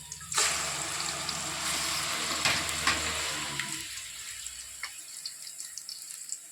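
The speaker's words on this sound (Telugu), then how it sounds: "ఇది ఫుల్గా ఫ్రై అవ్వాలన్నమాట పూర్తిగా పచ్చివాసన దాకా ఫ్రై అవ్వాలి" Ground tomato paste hits hot oil in a pan with a sudden loud sizzle that bubbles on for a few seconds, then eases into quieter, scattered crackling.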